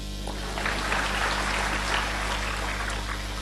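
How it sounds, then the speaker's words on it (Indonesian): Congregation clapping at a church service, a dense steady patter of many hands with a low hum running underneath, fairly loud and sustained throughout. "Tepuk tangan."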